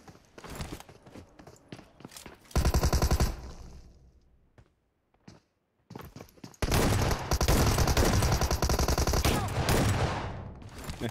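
Rapid automatic gunfire in the mobile battle-royale game PUBG Mobile, loud close bursts that break off into a short lull and then resume as a long sustained barrage.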